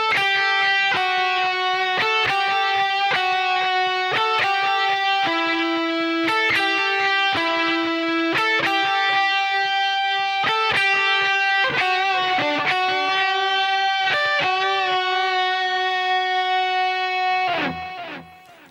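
Electric guitar with distortion and effects plays a second solo section: a fast run of sustained, ringing picked notes and phrases lasting most of the passage, alone and loud, ending in a bend that fades out.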